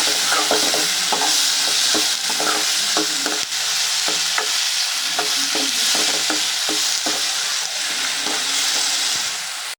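Tomatoes fry with liver masala in a pan, a constant loud sizzle broken by repeated scraping stirs at an irregular rhythm, close by with no talking.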